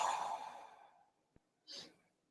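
A long, deep exhale during guided meditation, close and soft, fading out over about a second, followed by a tiny click and a shorter breathy sigh.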